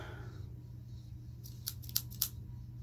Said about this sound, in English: And I have my Barbie hair cutting scissors.